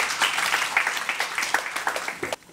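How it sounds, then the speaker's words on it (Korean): Audience applause at a Korean education autonomy conference forum in Siheung, a moderate round of clapping that continues steadily, then cuts off abruptly near the end. "네, 박수로."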